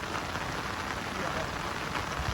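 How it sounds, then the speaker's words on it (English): Heavy rain pours down on a golf course, a dense, steady hiss of drops hitting the surface that holds constant throughout, close and loud with no break. "And the rain's chucking it down."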